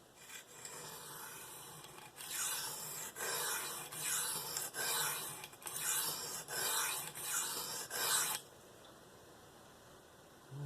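A Spyderco Paramilitary 2 knife with an S30V steel blade is drawn across a coarse DMT diamond stone, giving a series of about eight rhythmic rasping strokes, close and fairly loud, then stopping.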